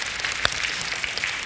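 A church congregation clapping loudly together, a dense, continuous patter of applause with one sharp, louder clap standing out near the start.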